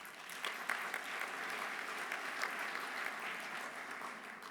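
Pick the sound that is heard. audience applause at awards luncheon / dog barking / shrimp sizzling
audience applause at awards luncheon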